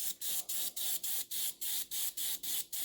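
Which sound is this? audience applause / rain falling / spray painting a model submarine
spray painting a model submarine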